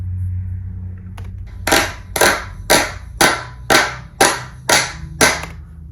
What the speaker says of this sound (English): it'll sound like 7 people clapping